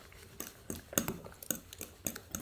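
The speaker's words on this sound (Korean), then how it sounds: "포크로 살 저어주세요" A fork gently stirring beaten eggs, with a pinch of salt added, in a bowl: light, irregular clinks and taps, soft and close, with quiet pauses between strokes and no voices.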